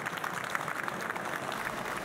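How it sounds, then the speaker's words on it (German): Audience applause at an award ceremony for a painting competition, a steady dense clatter of many hands clapping throughout, fairly even in loudness with no voices over it. "Da hinten, Applaus!"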